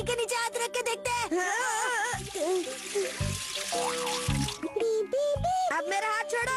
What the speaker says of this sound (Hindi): चलो पानी के नीचे हाथ रख के देखते हैं।